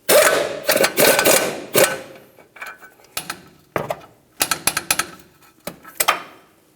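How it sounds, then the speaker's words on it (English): A ratchet or torque wrench works a 21mm nut on a ball joint stud during an airbag-to-coil conversion on a 1998-2002 Lincoln Navigator, giving loud metallic rasps and clicks in bursts, followed by sparser sharp clacks. "Now we can bottom this out and then torque it to 66 foot-pounds."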